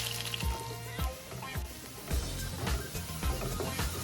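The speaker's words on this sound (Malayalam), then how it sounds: "നമുക്കിതിനകത്തോട്ട് പൊടിയായി അരിഞ്ഞു വെച്ച സവാള ഉള്ളി ഇട്ട് കൊടുക്കാം." Finely chopped onions sizzle softly in hot coconut oil in a kadai for a Kerala-style meatball curry, a steady frying hiss broken by occasional clinks or stirring knocks.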